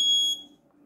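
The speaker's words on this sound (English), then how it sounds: "Temperature crossed 63. Okay. Alarm on." A buzzer on a Raspberry Pi Pico patient health monitor sounds one short, shrill electronic beep at the start, then cuts off, leaving a faint low hum.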